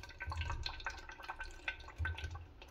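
Brake fluid drips and trickles from an opened bleed valve on a VW car, with irregular close liquid drips and bubbling sounds, fairly quiet, with no speech.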